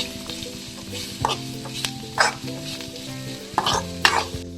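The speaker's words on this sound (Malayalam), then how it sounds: "ഇനി അതൊന്ന് മിക്സ് ചെയ്ത് കൊടുക്കാം" Onions and beans with turmeric sizzle in a pan while a spoon stirs them, giving a steady close fry hiss broken by several scraping, clattering strokes, with no voices.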